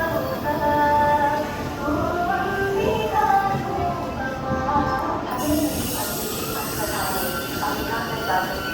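A Secunderabad to Srikakulam special train runs with a steady low rumble and rattle of wheels on track, continuous and close, with a brief hissing shift partway through and some voices in the background.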